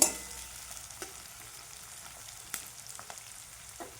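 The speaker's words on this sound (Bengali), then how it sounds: "পেঁয়াজটা ভেজে নেবো লাল লাল করে" Soft, steady sizzling of onions frying in a pan, with occasional light clicks and scrapes of stirring.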